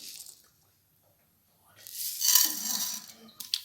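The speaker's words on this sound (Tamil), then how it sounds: "இதில் நான் கடுகு போட்டுக்கிறேன்." Mustard seeds hit hot sesame oil in a pan and burst into a sharp, hissing splutter for about two seconds, close and moderately loud, after a brief faint rustle and a short silence.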